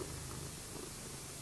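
Kittens purring up close, a steady continuous rumble that fills the whole short stretch with no talk over it.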